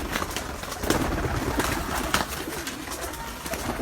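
Domestic breeder pigeons coo repeatedly in a loft, a steady close murmur of soft throaty calls with light rustling and no talk.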